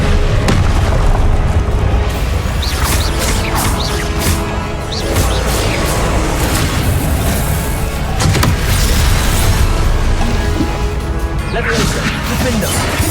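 Fiery Confringo spell blasts in the Hogwarts Legacy game go off in a dense, relentless string of booms and crashes amid the clatter of magical combat, loud throughout the whole stretch.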